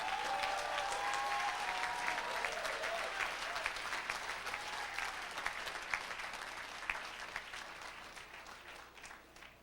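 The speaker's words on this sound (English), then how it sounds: "Let's give a round of applause to the MRED graduates." Crowd applause for graduates at a USC planning school commencement ceremony in 2005: a broad, even wash of many clapping hands heard from a distance that slowly fades, with a brief tonal sound at the start.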